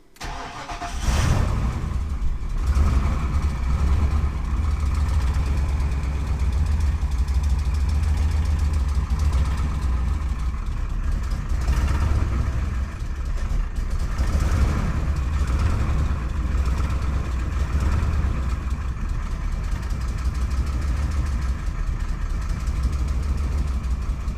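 A BMW E36 engine starts on a cold morning, around 35 degrees, and settles into a steady, low, rumbling idle that continues evenly, close and fairly loud, with no talking.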